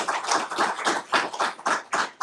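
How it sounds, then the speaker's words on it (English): Clapping at a school district board meeting as honorees from Liberty High School are recognized, coming in distinct uneven bursts of hands rather than a smooth wash, fairly close and loud. "let's do a big round of applause for Ms. Lewis, Liberty High School, and Mr. Bono and Mr. Rosales."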